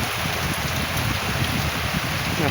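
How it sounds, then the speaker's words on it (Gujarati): Steady monsoon rain pours over farmland in Una taluka, a dense, even hiss of drops with no breaks from start to finish. "જોઈ શકો તમે વરસાદ"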